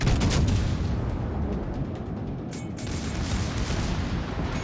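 Battleship secondary guns firing in World of Warships Legends, a dense, continuous barrage of booming gunfire with rumbling low end and overlapping reports, loud and sustained with no talk.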